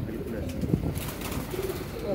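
Pigeons kept on a plaza rooftop coo softly, one brief low coo standing out against a background of chatter and faint outdoor noise.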